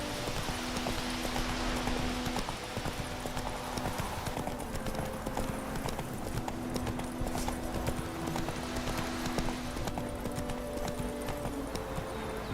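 Roach the horse trots in The Witcher 3, a steady rhythmic clip-clop of hooves that carries nearby throughout, with faint voices in the background.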